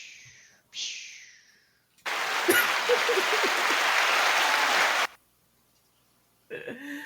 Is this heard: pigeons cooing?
no